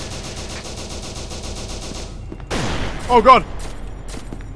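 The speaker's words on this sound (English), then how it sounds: "Keep throwing frags! Keep throwing nades!" Rapid gunfire and grenade blasts in the horror game SCP Containment Breach, a steady stream of loud shots that stops partway through, followed by a voice crying out.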